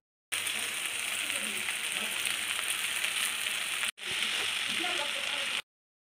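Okra frying and being stirred in a pan for a Bengali dish, a steady broadband sizzle filling the clip with a brief break near the four-second mark, close and fairly loud with no talk.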